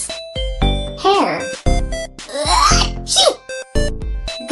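A cartoon character sneezes in a children's show, several sharp bursty sneeze-like sounds broken up by tonal musical chimes and a voice.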